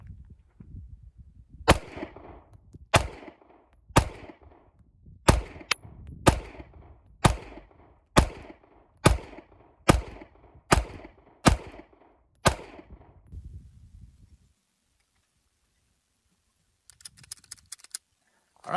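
Twelve shots from an HK CC9 pistol firing S&B 124 grain ammunition, sharp loud cracks at a steady, evenly spaced pace of roughly one per second, then quiet and faint rustling at the end.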